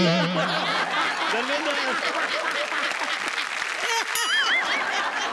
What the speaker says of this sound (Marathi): धर्मेंद्र सरांसाठी खरंच जोरदार टाळ्या